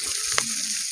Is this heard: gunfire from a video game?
no